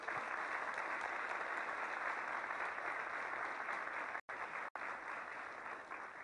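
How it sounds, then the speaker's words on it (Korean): Steady applause from a forum audience opening a digital-economy policy event with a presidential candidate, a continuous wash of many clapping hands, fairly faint and distant, with two brief dropouts near the end. "큰 박수와 함께 시작하도록 하겠습니다"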